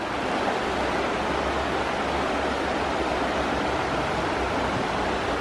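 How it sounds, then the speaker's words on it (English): A creek flowing in the Great Smoky Mountains near Metcalf Bottoms, steady close rushing and splashing water with no breaks and no voices. "Just listening to the sound of the water, super relaxing."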